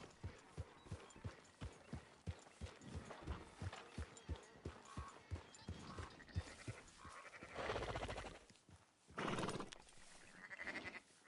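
Sheep bleating in the open-world western game Red Dead Redemption 2, a few loud calls standing out near the end after a long run of steady horse hoof clip-clops.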